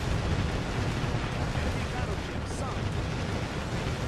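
Ship guns firing in Warship Gunner 2 make a continuous dense roar of blasts and rumbling explosions that fills the whole stretch with no pause.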